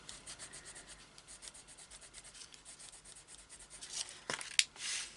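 An embossing tool rubs and scratches across vellum for a card, giving close, quiet, repeated rasping strokes that grow a little louder and more abrupt toward the end.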